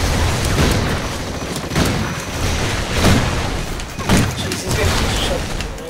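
Grenade explosions in the video game Call of Duty: Ghosts, a string of loud, deep booms and crashes rolling one after another over a continuous roar of battle noise.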